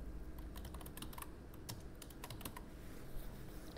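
Rapid keystrokes on a computer keyboard while writing a heading in a Microsoft Word document, irregular clicks close to the mic over a low steady room hum.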